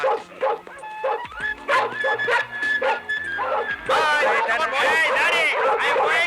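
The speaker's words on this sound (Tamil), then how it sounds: "புது நாய் இழுக்குது, யாருக்கு கட்டுப்பட மாட்டேங்குது." A dog barks and yips repeatedly in a Tamil comedy film scene, short sharp barks coming fast and loud, heard mixed with people talking over them.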